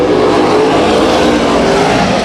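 Race car at Bakersfield Speedway during a heat race, engine roaring loud and steady under acceleration, a dense close-up blare with no break.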